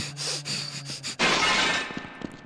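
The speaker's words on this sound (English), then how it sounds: "To break the glass." Glass shatters in the video game They Hunger, a sudden loud crash with a bright spray of shards that cuts in after quieter in-game sounds and then trails off into scattered tinkling pieces.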